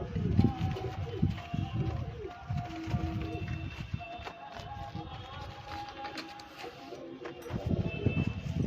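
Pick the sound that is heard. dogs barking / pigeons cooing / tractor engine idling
pigeons cooing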